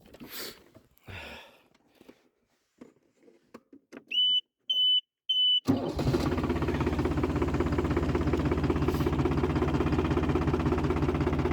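A few quiet sounds and a run of high electronic beeps come first. Then a farm tractor's engine starts up and keeps running at a steady, loud, rumbling drone.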